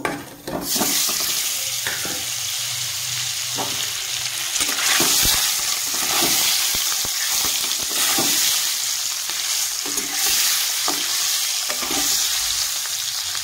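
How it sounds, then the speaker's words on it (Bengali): Large duck eggs fry in hot oil in a kadai, a loud sizzle bursting in after a brief pause and holding steady, punctuated by repeated scrapes and knocks of a spatula. "আমি ডিমগুলো ভেজে নেব।"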